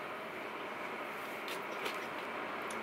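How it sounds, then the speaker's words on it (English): Inside an overnight sleeper train, a steady broadband rumble and hiss of the moving carriage fills the space, with faint rattles and no talk. "We're on a sleep train."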